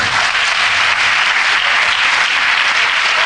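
A church congregation applauds in a loud, steady, dense wash of clapping that holds without a break from start to finish.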